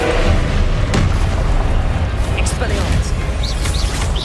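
A magical fire-blast spell explodes in the Hogwarts Legacy video game, a dull boom buried under dense, constant game audio, with a voice calling out spell names around it.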